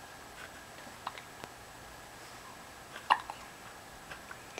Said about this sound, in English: Somebody has the hiccups.